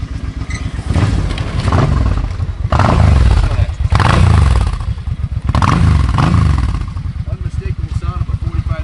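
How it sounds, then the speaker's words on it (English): A 2005 Suzuki C50 Boulevard with a 45-degree V-twin and stock exhaust idles and revs, loud and close, its uneven lumpy rumble swelling through several throttle blips. "Unmistakable sound of a 45-degree V-twin."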